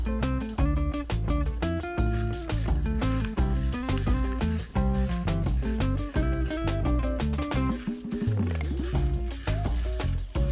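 Burdock root (gobo) and tofu puffs sizzle and crackle steadily in a hot frying pan, with music playing throughout.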